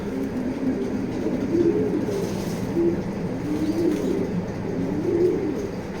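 Racer pigeons keep up a steady, low rolling cooing nearby, several calls overlapping in a continuous murmur, with no voices.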